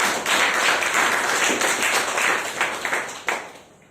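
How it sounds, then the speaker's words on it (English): Audience applause at a speakers' forum, a steady burst of many hands clapping together, loud and close, fading out toward the end. "A big round of applause for her."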